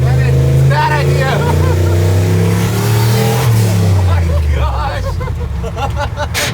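The engine of a truck with a 1000whp Corvette powertrain revs up loudly through a gear change, a deep droning pitch that climbs, dips at the shift and climbs again, with people talking over it.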